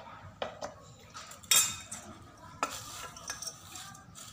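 A snack mix with oil, chili powder, salt and lentil powder is stirred in a metal dish, with scattered scrapes and sharp clinks of a spoon, close and fairly loud, and no one talking.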